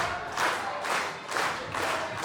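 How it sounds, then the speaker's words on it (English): Wrestling crowd at the Irving Theater cheering and chanting in rhythmic waves, roughly three or four swelling pulses of massed voices over steady arena noise, loud and dense without any single clear speaker. "This crowd now desperately rallying behind the Soul Shooters"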